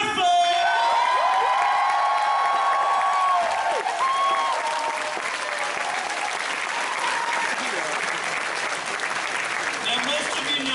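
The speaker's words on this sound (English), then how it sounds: "make some noise for Black Griffin" A large crowd applauds and cheers loudly, with whoops and shouts rising over continuous clapping that stays full throughout.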